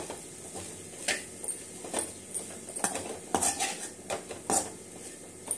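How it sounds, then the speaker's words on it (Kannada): Raw plantain slices are tossed with a gram flour coating in a bowl, giving irregular clinks and scrapes of a utensil against the dish, close and fairly soft. "ಇದೆಲ್ಲ ಚೆನ್ನಾಗಿ ಮಿಕ್ಸ್ ಮಾಡ್ಕೊಳ್ಳೋಣ"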